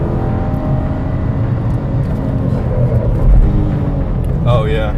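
Race car braking hard into a corner and downshifting without heel-toe, a loud engine roar with shifting revs and a brief rear-wheel lockup skip, with talk over it.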